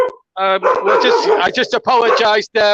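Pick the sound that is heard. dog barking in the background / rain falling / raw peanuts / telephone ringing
dog barking in the background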